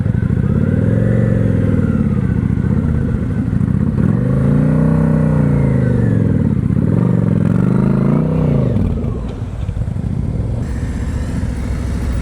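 Motorcycle engine idling and rising in slow swells as the bike is ridden at low speed under power during an advanced slow-speed riding practice in North Carolina, loud and close with a steady rumble throughout.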